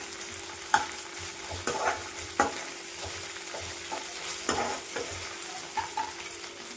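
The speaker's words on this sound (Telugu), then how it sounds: "అల్లం వెల్లుల్లి పేస్ట్ పచ్చివాసన పోయే వరకు 1 నిమిషం పాటు ఇట్లా వేయించుకున్నామండి." Ginger garlic paste fries in a pan for a Telangana-style boti fry, giving a soft, steady sizzle with several sharp stirring scrapes and taps spread through, fairly quiet, with no talking.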